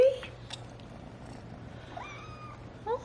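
A domestic cat near feeding time gives a couple of short, faint meows over a quiet room background, one at the start and another toward the end.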